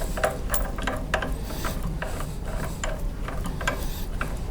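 A bolt being screwed back into a 4 kW generator rotor with a ratchet: a steady run of quick metallic clicks, close and fairly loud throughout, with no talk.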